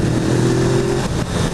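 A Suzuki GS500 carbureted twin-cylinder motorcycle engine revs up close, a loud steady rumble holding a rising note for about a second before easing off, with no talking.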